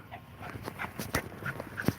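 A female hound dog gives a few short, scattered barks and soft whimpers at close range, with brief pauses between the sounds and quiet background noise.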